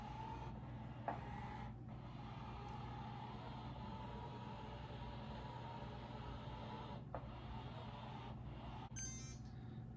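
Samsung JetBot VR20T6001MW robot mop with dual spinning microfiber pads, a faint steady motor hum and whir as it moves forward and spins around, with a few soft knocks.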